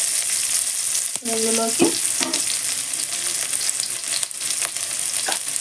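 Onions sizzle and fry steadily in hot oil for Telugu-style gongura chutney, with a continuous close hiss, occasional stirring clatter and a brief spoken word over the cooking.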